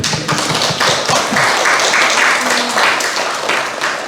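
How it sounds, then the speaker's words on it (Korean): A church congregation clapping together during a sermon, a dense, loud burst of many hands with a few voices over it. "박수 한번 쳐주세요, 여기"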